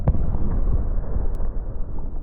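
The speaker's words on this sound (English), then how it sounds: "We also have thunder emitters," Deep rumbling thunder in a VR video game rolls on, loud and low, with a heavy crack at the start fading into a sustained boom.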